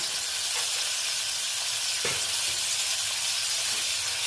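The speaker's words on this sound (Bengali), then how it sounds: "দিয়ে আবার একটু নেড়ে কেড়ে নিচ্ছি" Fried potatoes in a pan with chopped tomato and ginger paste, giving a steady close sizzle with soft stirring scrapes and one brief clink partway through.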